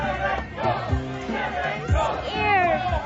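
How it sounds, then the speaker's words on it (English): A crowd gathers around a spaceport in a radio drama scene: many voices shout and clamor together at a steady, loud level throughout, with occasional rising cries over the mass of sound. "There is a crowd around the spaceport."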